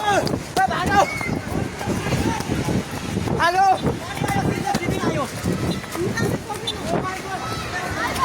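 Swollen Trishuli river floodwater at Dhunge Bagar, Nepal, rushes past in a steady, loud broadband roar, with people shouting and talking over it almost the whole time.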